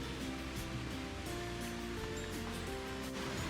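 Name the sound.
flowing fresh rainwater stream at Fort Munro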